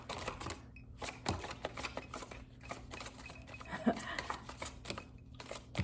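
A slippery tarot deck is shuffled sloppily, giving rapid papery riffles and flicks in bursts, with a person talking over it.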